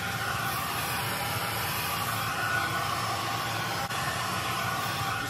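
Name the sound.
heat gun blowing to shrink plastic wrap on foam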